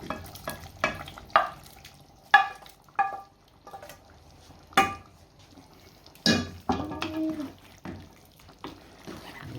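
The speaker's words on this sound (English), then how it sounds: "then we're gonna add the lobster now, the lobster and prawn" Lobster and prawns cooking in a curry in a pot, with scattered stirring clanks, soft sizzling and bubbling, and occasional utensil knocks against the pan, fairly quiet and close.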